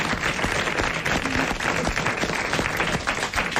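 Studio audience applause on a 1987 French television show, a steady dense wash of clapping held at even loudness for the whole stretch, fairly close and with no voices over it.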